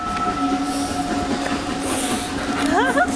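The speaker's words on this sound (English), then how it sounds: "It's like a train from Beamish." A train rumbles steadily with a tonal hum and faint wheel squeal, continuous and moderately close, as people talk nearby.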